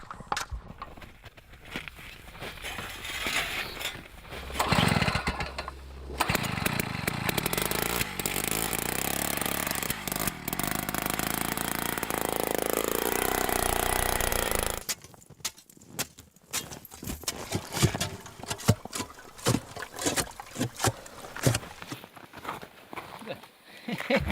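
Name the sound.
boring a hole through Arctic ice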